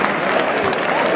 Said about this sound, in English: Claps all around for that save